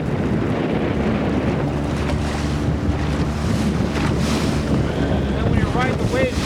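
A new boat pounds through big waves on Lake Michigan in March, with a steady engine drone, loud wind buffeting and water slapping and hissing against the hull throughout.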